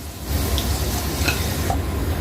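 Continuous crackling sizzle of food frying in a pan, close and steady, with occasional light scraping of a utensil.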